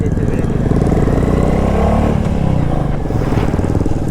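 A Royal Enfield motorcycle is ridden on the road, its low, steady engine thump continuous throughout, with a rider talking over it.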